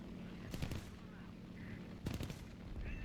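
Aircraft cannon fire in the War Thunder combat game, two short rapid bursts of shots about a second and a half apart, faint and distant-sounding over a quiet background.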